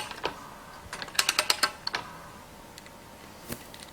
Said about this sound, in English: it's actually easier to thread with this than it is to thread 2-inch pipe because of the 7-to-1 gear reduction that you have.